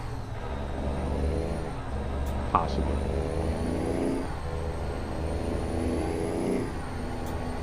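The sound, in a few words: truck engine and air brake in American Truck Simulator video game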